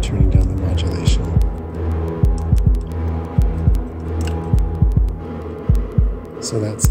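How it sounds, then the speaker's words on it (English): Repeated low snare drum hits through a reverb module thud in a steady pattern, each one smeared into a long, booming reverberant tail with a humming wash underneath. "So that's the snare drum."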